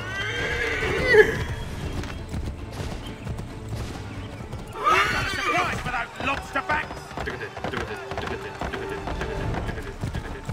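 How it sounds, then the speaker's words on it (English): Horse neighs loudly and then gallops with rapid hoofbeats in the video game Assassin's Creed 3, amid game music and background voices. "Horsey! Let's go, horsey!"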